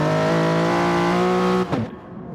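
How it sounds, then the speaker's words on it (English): A race car's engine drones loud and close as it leaves the pit lane in a racing video game, holding a steady high-revving note before cutting off abruptly and fading. "Incredibly loud as Diablo leaves the pit there"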